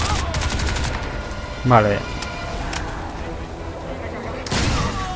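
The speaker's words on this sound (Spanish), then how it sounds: "¿De dónde disparan? De arriba." Gunfire from above in Crysis 2, dense bursts of shots at the start and again near the end, with a voice speaking briefly amid game effects.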